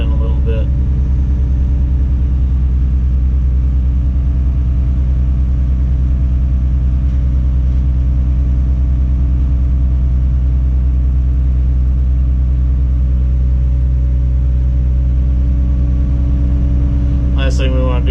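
A Tadano ATF 180G-5 all-terrain crane's engine running steadily from inside the cab during a dock install, a loud, constant low hum with stable tonal layers while the upper works swing, and brief clicks at the start and end.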